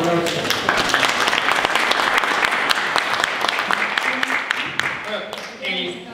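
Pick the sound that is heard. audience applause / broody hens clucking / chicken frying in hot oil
audience applause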